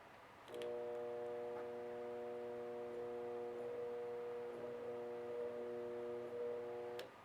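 A repaired electric motor switches on and settles into a steady, tonal hum that holds evenly for several seconds, faint and close, before cutting off, with no talk over it.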